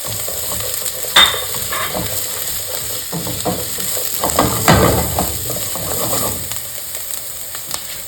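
Garlic, ginger and onion fry in a pan for chicken adobo in coconut milk, a steady close sizzle broken by scraping stir strokes and clinks of a utensil against the pan, with no talking.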